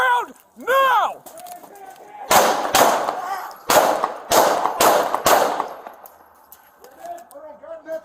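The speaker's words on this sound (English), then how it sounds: "Shots fired." A police officer's gun fires during an Austin police bodycam shooting, a rapid string of loud, sharp cracks close by, with shouting voices just before and after.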